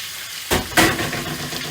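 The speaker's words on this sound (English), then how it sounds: "And you can hear that sizzling away." After a quiet start, sirloin steak hits a hot pan and a loud, steady sizzle begins, crackling and hissing up close.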